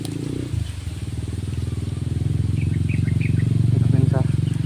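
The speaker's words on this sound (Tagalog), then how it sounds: "Ah, may motor." A motorcycle passing close by, its engine a steady rumbling drone that grows slightly louder, with faint voices talking underneath.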